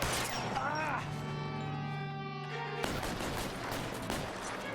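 Dense gunfire in a firefight against military forces in LA Noire, sustained bursts and rattling shots dominating the mix alongside steady tonal game sounds, with a voice talking over it.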